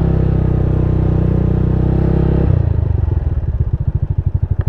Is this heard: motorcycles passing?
yes